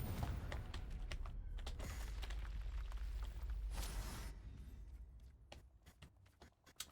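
Confringo spell explosions in Hogwarts Legacy, a rumbling boom that swells and fades, with sharp clicking hits and scattered impacts in the quieter tail.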